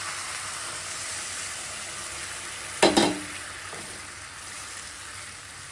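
Carrots frying for gajar halwa give a steady, close sizzle, broken midway by a short, loud hissing splash as boiled milk is poured into the pan, then settling back.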